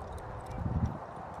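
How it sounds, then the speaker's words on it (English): A ridden horse trots, its hooves giving a soft, quick clip-clop that sits low and faint beneath wind and rider noise over a short stretch. "And here we go, trotting around."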